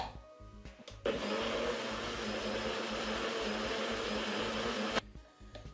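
A blender whirs loudly and steadily for about four seconds as it mixes avocado with raw cacao powder, starting and stopping abruptly, with quiet kitchen clicks before and after.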